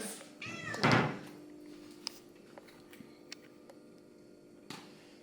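A single loud, drawn-out cat meow near the start, followed by a few faint clicks and knocks in a quiet room.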